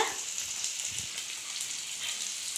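Onions frying in oil in a pan for a carrot and beans poriyal, giving a steady soft sizzle with fine crackle throughout, fairly quiet and continuous with no talking.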